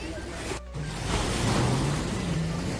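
Waves wash steadily onto Sinquerim beach in Goa, a broad surf roar with some wind noise, briefly dipping before swelling again.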